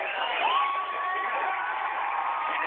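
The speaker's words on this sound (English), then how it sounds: "And you hear the crowd, the Eudora Cardinals saying, yay, yay, yay." Football crowd at a Kansas high school championship game in the stands, a distant muffled mass of cheering and whoops with a rising yell, heard through a narrow band with no clear talk.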